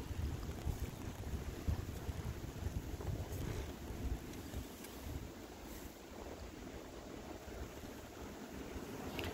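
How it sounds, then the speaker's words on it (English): Strong wind gusting through a winter blizzard near Watertown, South Dakota, a steady broad roar buffeting the microphone for the whole stretch, with no talk. "The wind's currently gust up to 28 miles an hour."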